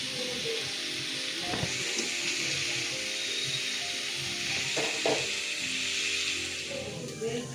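Chopped tomatoes hit onions and ginger-garlic paste sautéing in a pan, giving a steady loud sizzle throughout with a few scraping stirs of a spoon, no talking.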